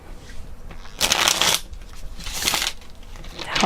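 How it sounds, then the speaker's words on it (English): Tarot cards riffled and shuffled by hand in two crisp bursts with quieter handling between, close and clear. "I just like to shuffle"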